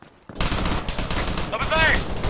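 Rapid gunfire bursts in the ArmA 3 military shooter erupt after a brief quiet start, loud and dense, with a voice speaking over the shooting.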